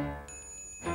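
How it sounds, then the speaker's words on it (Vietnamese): A bell in a Smurfs cartoon rings with a sustained, bright metallic tone that lingers and then swells slightly louder at the end, alone with no voices. "Một cái chuông sao?"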